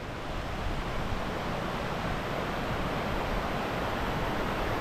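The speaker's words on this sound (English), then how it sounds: "We have a beautiful creek here." A creek flows through old-growth forest with a little snow on the ground, making a steady broadband rush of water that stays loud and unbroken throughout.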